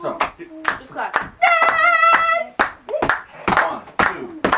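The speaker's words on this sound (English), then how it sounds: "Keep clapping" Hand clapping in a steady rhythm of sharp, close claps, with voices talking and a sustained vocal tone between and over them.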